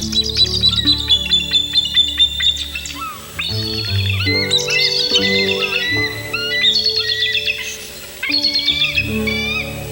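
Bald eagles call in high, piercing, repeated chattering series, loud and close, echoing through a canyon in winter in Alaska, layered over a low sustained musical backdrop.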